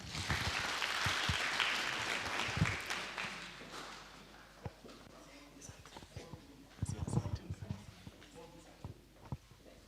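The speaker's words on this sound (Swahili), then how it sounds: "Tupigeni makofi kwa pamoja" Audience applause fills a Tanzanian agricultural tour event, a dense loud wash of clapping for the first few seconds that thins to scattered claps and murmuring voices, with a brief renewed burst later.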